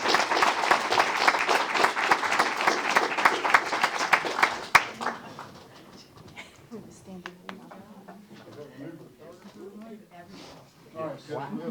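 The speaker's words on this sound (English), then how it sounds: "Let's give them a round of applause." An audience at a city council meeting applauds: loud, dense clapping for about five seconds that ends abruptly, then people talking and murmuring in the room afterward.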